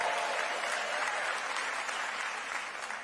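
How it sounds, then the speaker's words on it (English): A church congregation claps their hands in thanks, a loud, dense, continuous burst of applause filling the room and easing slightly near the end. "Everybody clap their hands and thank God for that."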